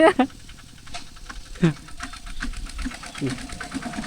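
A farm tractor engine putters in a steady, rapid rhythm at moderate distance while someone talks over it.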